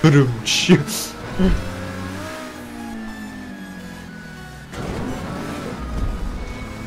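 A car in GTA 5 Online on a custom map, its engine droning steadily with a rising pitch and a louder surge near the end, while people talk and laugh over it.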